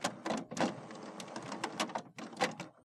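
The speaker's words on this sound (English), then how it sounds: "Wait for the printer to turn on and stop making noise." An HP Officejet 6700 Premium all-in-one printer powering on, giving a busy run of mechanical whirs, clicks and clunks that carry on steadily for about three seconds and then stop abruptly.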